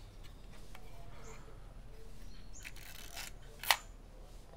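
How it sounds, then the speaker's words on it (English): A Zenit E film camera with an Industar 50mm f3.5 lens fires its shutter once near the end, a single sharp mechanical click over a quiet background with faint rustling and handling noises. "I'm gonna show you the shutter."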